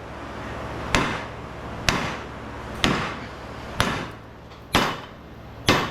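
A hand-held hammer strikes a large metal HID light fixture being scrapped for copper and aluminum, six heavy, evenly spaced blows about one second apart, each ringing briefly before fading.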